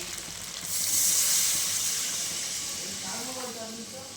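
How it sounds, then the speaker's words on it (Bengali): Water poured into a hot, spiced fish curry base in a pan sets off a loud burst of hissing steam and sizzle that swells quickly and then holds at a softer level, with faint background noise. "এখন মা জল দিয়ে দিবে"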